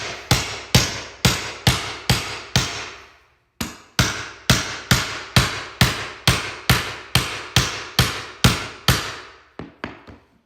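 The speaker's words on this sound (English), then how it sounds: "I like using the hammer. It gives me a little more pressure. And then I just start tapping." A hammer taps repeatedly on a flooring board in rapid, even bursts of sharp knocks, pausing briefly midway before the steady tapping resumes close by.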